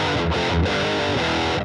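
A loud, heavily distorted electric guitar chord played through stacked high-gain distortion pedals with overdrive in front rings out with thick, saturated grit, struck a few times and then sustained.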